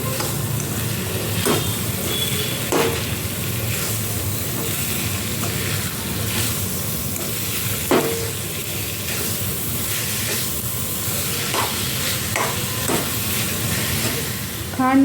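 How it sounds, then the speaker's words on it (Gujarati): A coconut, milk and sugar barfi mixture sizzles and bubbles steadily in a hot pan while being stirred, with repeated sharp scrapes of the spoon against the pan every second or two. "હવે ખાંડનું પાણી બળી ન જાય ત્યાં સુધી આને મિક્સ કરવાનું છે."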